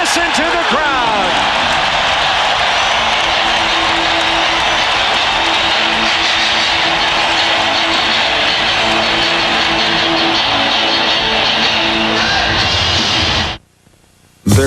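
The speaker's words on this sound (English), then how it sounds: "Listen to the crowd." Basketball arena crowd at a 1995 Magic vs Bulls playoff game roaring loudly and continuously as the Bulls rally, with a broadcast announcer talking over the noise before a brief cut near the end.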